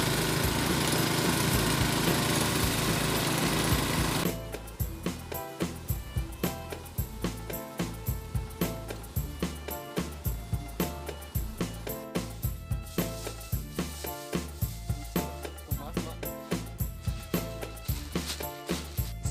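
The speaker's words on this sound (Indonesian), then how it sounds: "proses penggilingan daun kratom menjadi remahan hijau" A kratom leaf grinding machine runs loudly, first a dense continuous roar, then rhythmic pulsing chops repeating steadily as leaves are crushed into green crumbs.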